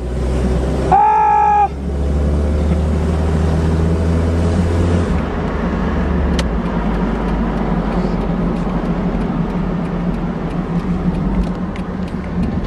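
A small Datsun car with a 1.4 or 1.5 liter engine accelerates at full throttle, a steady loud drone and road roar building continuously from inside the car, with a brief horn-like tone near the start.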